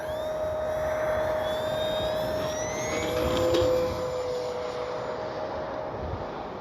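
A small propeller aircraft drones steadily overhead, its engine pitch rising and falling slightly as it passes, loud and continuous with wind noise underneath.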